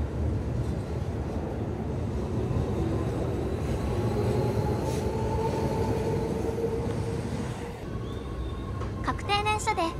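A Keio Line commuter train during the packed morning rush rumbles steadily throughout, a dense low roar with faint squealing tones, easing slightly near the end as brief high chirps appear.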